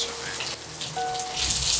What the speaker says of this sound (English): Baby, it's raining, yeah.